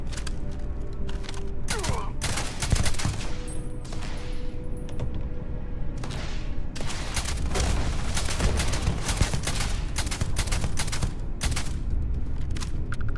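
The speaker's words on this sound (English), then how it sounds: "I love this gun." During a Starfield firefight, a gun rattles out rapid volleys of shots, loud and near, in dense bursts with brief gaps and mechanical clanks throughout.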